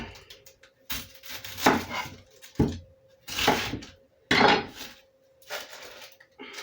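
A knife chops yellow onion into big chunks on a board, several separate firm crunching strokes with short pauses between them, close and fairly loud.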